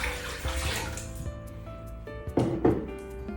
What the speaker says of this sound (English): First, I'm gonna add the water to the blender